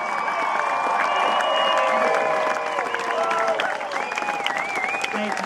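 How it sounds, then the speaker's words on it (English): A hall audience gives a big round of applause honoring the Johnnies' 1963 championship team, dense, steady clapping with some cheering voices mixed in, easing slightly toward the end. "Let's give these Johnnies from our 1963 championship team a big round of applause."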